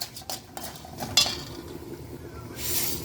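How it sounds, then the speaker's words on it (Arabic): Rice is poured into a pot of fried vermicelli: a few scattered metallic clinks and scrapes, then a soft rushing hiss of grains spilling in near the end, close and fairly quiet. "هنحط الرز بقى"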